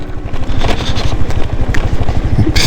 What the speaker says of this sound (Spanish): Parece que se va a descomponer toda la moto que va.